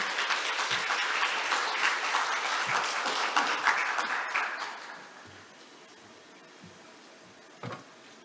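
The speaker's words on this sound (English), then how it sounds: "can we get a warm applause for our speakers?" Warm applause from a conference audience after speakers are introduced at an international carbon neutrality session, dense steady clapping for about four seconds before fading to quiet room tone, with a single faint knock near the end.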